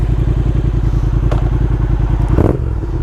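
A 2020 Triumph Speed Twin fitted with an aftermarket Vance and Hines exhaust idles and rumbles in an even, close pulsing beat, with a brief blip of revs near the end.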